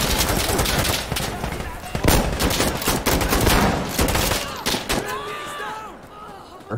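Sustained automatic fire from an M249 light machine gun in the shooter game Insurgency Sandstorm, loud and close, rattling in dense bursts with a brief break before trailing off, with a voice in the mix.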